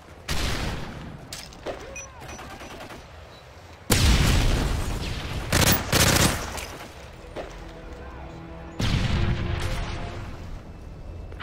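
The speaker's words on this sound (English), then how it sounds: "Grenade aveuglante." A flashbang grenade going off in Call of Duty: Modern Warfare 3 team deathmatch on the Resistance map, a sharp blast among bursts of gunfire and explosions, loud and close, with further booms and rattling shots following.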